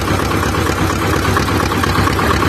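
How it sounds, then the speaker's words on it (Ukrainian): A T-25 tractor engine idles steadily and loudly, a continuous low rumble with an even mechanical chug and no pauses. "Трактор тепер почти з пів оберта е, заводиться."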